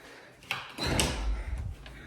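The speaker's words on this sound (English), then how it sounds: "So I'm just gonna open this door." Indoors, a door is opened with a sharp latch click followed by a wooden creak and rumbling slide, moderately close, with no talking.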